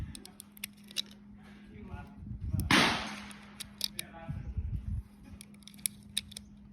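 Three .22 WMR Hornady V-Max 30-grain polymer-tipped cartridges are pressed into a magazine, giving sharp, close metallic clicks spaced through the clip, with a brief louder rustle near the middle.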